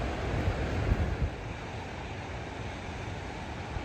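Ocean waves wash onto a soft-sand beach with an oil refinery nearby, heard as a steady broadband surf roar mixed with wind buffeting the microphone. It is fairly constant and no one speaks.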